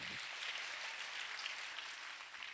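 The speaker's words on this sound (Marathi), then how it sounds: "त्यांच्यासाठी एकदा जोरदार टाळ्या वाजवायच्या आहेत." A dense, even wash of audience applause fills a Shivjayanti celebration, faint and steady throughout with no voices over it.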